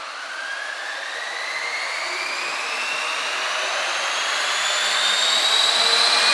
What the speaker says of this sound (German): Der Heli ist zu hoch gelaufen, zu schnell, die Drehzahl.